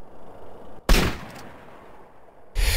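A gunshot headshot in GTA San Andreas: a sharp, loud crack breaks a quiet moment, then its tail fades, and a second burst of gunfire hits near the end.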